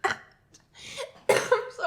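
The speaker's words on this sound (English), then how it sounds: "this cough has been here for like 3 weeks now." A few short, harsh coughs burst out close by, separated by brief pauses, with a rougher, louder fit near the end.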